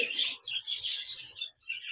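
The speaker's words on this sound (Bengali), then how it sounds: "এখানে দেখতে পাচ্ছেন একজোড়া জাপানিজ বাজরিগার রয়েছে, লুটিনো ডিএফ" A pair of lutino DF Japanese budgerigars in a cage, chirping in quick, bright bursts close by, the twittering nearly continuous with a brief pause before a final short call.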